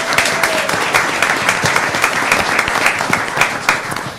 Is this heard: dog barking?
no